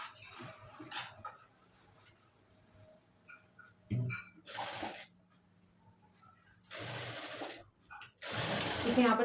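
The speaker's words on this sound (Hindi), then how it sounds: "इस पर फिर से हमने जो है सिलाई चलानी है बिल्कुल इक्वल करते हुए दोनों को" A sewing machine stitches dress fabric in short bursts of rapid mechanical whirring, with quiet pauses and faint handling noises between runs and a longer, louder run at the end.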